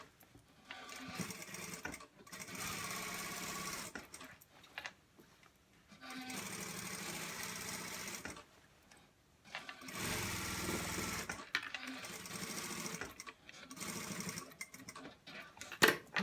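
A sewing machine runs top stitching along the back neck edge of an A-line dress, a close, rapid mechanical chatter in several bursts of a couple of seconds each, separated by short pauses.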